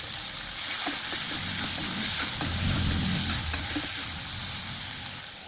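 Tomatoes sautéing with a little rock salt in a pan for prawn thokku gravy, a steady close sizzle with soft stirring scrapes running throughout, no voices.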